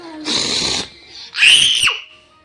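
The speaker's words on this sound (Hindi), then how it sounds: "इतना क्यों चिल्लाना है?" A young child screams loudly at close range in a home, two long piercing shrieks with a short gap between them and the second one rising higher.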